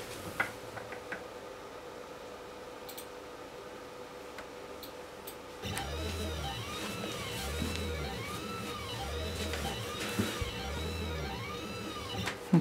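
An Endurance 10 watt 445 nm blue diode laser cuts blue velvet fabric at 1,000 mm per minute in two passes. A faint hum is followed midway by a steady, rhythmic whirring of the moving machine, repeating in even sweeps.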